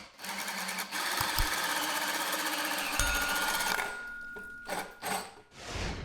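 A power drill whines loudly and steadily as it bores through wood, then stops with a few short bursts and knocks.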